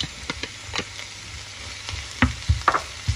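Onion and spinach sizzle in a frying pan, a close, steady crackle broken by a few sharp scrapes and taps of a stirring utensil. No one speaks.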